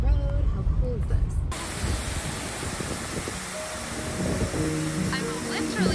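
Rushing water from a waterfall spilling onto a road at Lake Cushman in winter, a steady broadband roar heard up close, with rumbling wind buffeting the microphone and a voice briefly talking over it.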